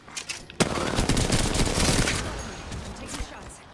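Rapid gunfire bursts in the Apex Legends battle royale shooter, loud and near, with a sharp onset followed by dense sustained automatic fire that tapers into scattered shots.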